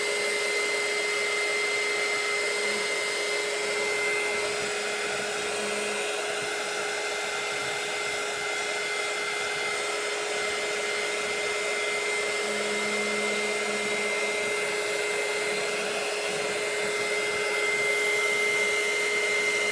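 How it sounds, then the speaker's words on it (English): A hair dryer blows a steady, even whoosh with a constant whine while drying Teflon baking sheets, running unbroken throughout at moderate loudness. "Watch me dry off Teflon baking sheets."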